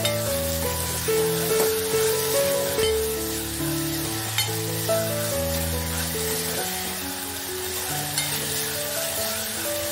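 Onions sauté with salt in a hot pan, making a loud, continuous frying sizzle heard up close, with occasional stirring scrapes.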